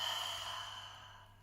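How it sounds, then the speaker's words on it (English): A single deep exhale through the open mouth during a morning breathing practice, close and breathy, fading steadily over about a second and a half. "Open the mouth, exhale."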